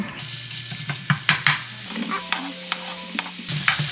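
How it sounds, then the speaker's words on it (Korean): Onion and minced garlic sizzle steadily in a hot frying pan, with a few sharp scraping clicks from stirring, loud and close. "양파랑 다진 마늘 프라이팬에 볶습니다."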